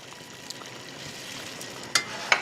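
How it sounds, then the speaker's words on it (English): Mustard sauce simmering in a pan for salmon gives off a soft, steady bubbling hiss. Two brief clinks near the end stand out sharply above the low simmer. "So this is simmering away"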